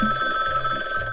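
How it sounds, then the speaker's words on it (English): A telephone rings with a steady electronic tone, fairly faint, in a quiet room with no talk over it. "the phone's ringing"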